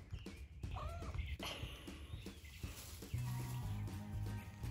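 A cat meows in a horse barn during a morning routine, with a few short, rising calls heard fairly close against a busy background of barn noise and rustling.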